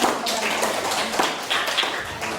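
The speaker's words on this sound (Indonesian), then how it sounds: "Beri aplaus dulu untuk kelompok 2 yang sudah melakukan" Classroom applause for a student group in a seventh-grade Islamic studies lesson: a steady patter of many hands clapping together indoors, fairly loud and close, with no voices over it.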